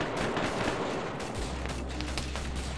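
Gunfire in Arma 3, a rapid automatic burst at fairly low level, followed by a steady low droning hum.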